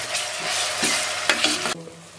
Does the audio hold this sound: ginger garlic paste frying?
yes